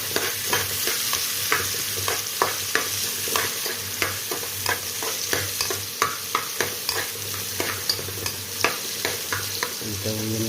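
Onions for pancit frying in a pan, a steady close sizzle with regular sharp scrapes and clacks of a spatula stirring about once a second throughout.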